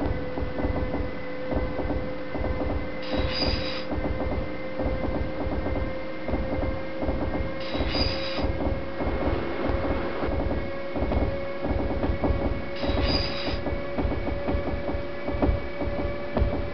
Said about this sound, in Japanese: ご乗車ありがとうございます快速電車の網干行きです